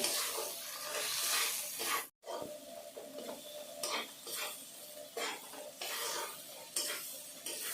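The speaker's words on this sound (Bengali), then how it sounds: "আর দিয়ে দিচ্ছি গুঁড়ো লঙ্কা দিয়ে মশলাটা আমি ভালো করে কষিয়ে নেব" Spice paste with chilli powder frying in a pan for ghugni, a close hissing sizzle broken by rhythmic scraping strokes of a spatula, with a brief silent gap early on and no speech.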